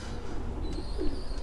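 Racing pigeons in a loft give soft, low cooing calls over a faint steady background, with a brief thin chirp or whistle in the middle of this short stretch.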